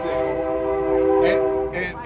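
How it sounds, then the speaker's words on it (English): A passing train sounds its horn in a loud, sustained, steady blast lasting about two seconds, close by, with some faint rattling underneath. "we had to do this right when the train went by"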